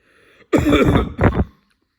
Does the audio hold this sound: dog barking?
no